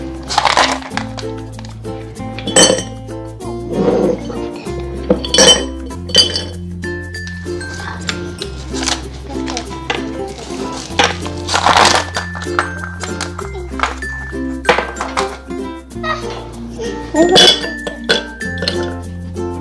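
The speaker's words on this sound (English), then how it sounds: "Let me put our ice in there. I'm gonna put them into our jug." Ice cubes clink and clatter into a glass jug for homemade lemonade in repeated bursts, with rattling and knocking of dishes while someone talks throughout.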